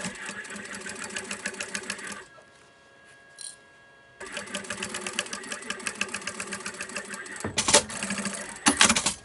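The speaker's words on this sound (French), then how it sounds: "Et on vient faire une petite couture ici." Sewing machine stitching a seam on recycled denim for a zip pouch, a rapid close rattling hum in two bursts separated by a quiet pause, then a few sharp clunks.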